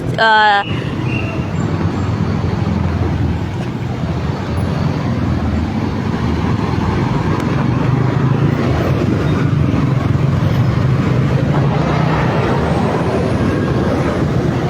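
Heavy Monday-morning road traffic at the Ungka flyover in Pavia, Iloilo, forms a loud, continuous roar of engines and tires. A brief voice is heard right at the start.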